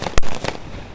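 A volley of shots from an old rifle, over sixty years old, during a feu de joie ceremony: two sharp loud cracks about a third of a second apart, with fainter pops and crackle around them.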